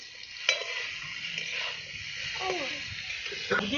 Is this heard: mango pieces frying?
yes